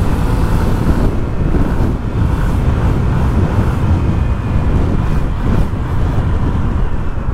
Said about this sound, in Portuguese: Olha o barulhão que ela faz na caixa do filtro